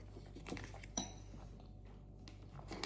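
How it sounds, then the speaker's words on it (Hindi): Dishes being washed give off faint, scattered clinks and light clatters of metal and crockery over a low, steady background hum. "ये लड़कियां देखो बर्तन धोती हुई"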